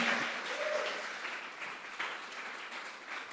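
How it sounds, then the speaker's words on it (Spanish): A church congregation claps together in a steady wash of applause that slowly fades. "¿Cuántos pueden darle un aplauso al Señor por eso?"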